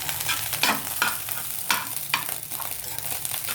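Egg frying in a pan alongside fish, with a steady sizzle broken by several scraping stirs of a spatula, close and moderately loud.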